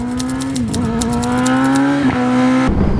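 Kawasaki ZX-10RR track-spec motorcycle engine held at a loud, steady high-rpm drone, with brief dips in pitch around half a second, two seconds and near the end as the quickshifter snaps through gear changes.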